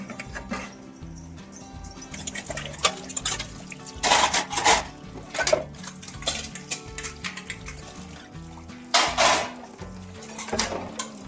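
Dishes, pots and pans clatter and clink while being washed at night, with bursts of metallic scraping and knocking in an uneven rhythm, close and fairly loud, over a low background hum.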